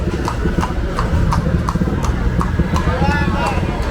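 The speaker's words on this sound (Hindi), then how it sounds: "यहाँ पे लोग घोड़े के मज़े ले रहे हैं संडे में।" Horses clip-clopping at a crowded Honduras–Nicaragua border crossing on a Sunday, steady hoofbeats striking hard ground at a close distance, heard under someone talking.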